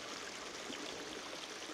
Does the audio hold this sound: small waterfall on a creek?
yes